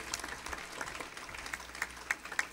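A church congregation applauds for the Lord during a sermon, faint, scattered clapping that comes in loose, irregular claps and grows a little sharper near the end.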